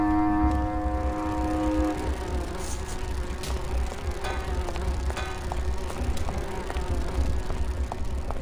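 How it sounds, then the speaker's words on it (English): Bees in Grim Fandango give off a steady insect buzz, with high whining tones at the start, layered over a constant low ambient drone and occasional faint clicks. "These bees don't seem too busy."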